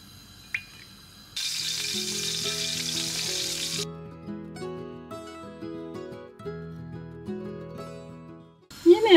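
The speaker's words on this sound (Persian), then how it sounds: "یکم روغن میریزم تای قابلمه داغ شه برای تدیگمون." A short burst of hissing sizzle from oil heating in a pot, then quieter crackling beneath steady tonal background music.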